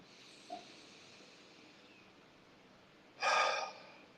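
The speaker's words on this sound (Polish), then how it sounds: "i wydychając przez usta" A deep exhale through the mouth during a guided relaxation meditation, one breathy, close release lasting under a second after a quiet stretch with a faint earlier breath sound.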